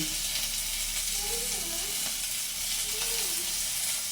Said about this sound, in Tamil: எல்லாத்தையும் போட்டு நல்ல வடிவாக வதக்குவோம்